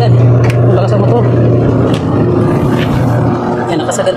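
A washing machine motor, running on a new timer turned to its maximum setting, hums loudly and steadily up close, with scattered clicks and background noise over it.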